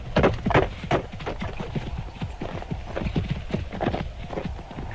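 Horse hooves clip-clop steadily on a short causeway leading up to a house, a close, continuous rhythmic clatter with no talk over it, used as a narration sound effect.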